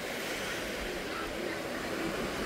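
Sea waves wash onto a beach as a continuous, fairly faint broadband rush with some wind, with no distinct individual breakers standing out.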